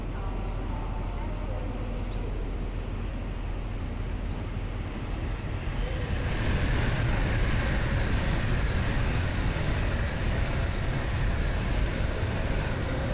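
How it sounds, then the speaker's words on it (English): A train in the game Train Sim passes through Grantham station with a steady broadband roar that swells partway through, loud and continuous, with talking over it. "We've got a passing train at the same time."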